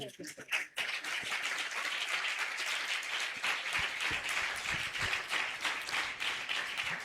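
A church congregation at a Pentecost sermon breaks into loud, sustained clapping that starts after a brief moment and carries on evenly to the end.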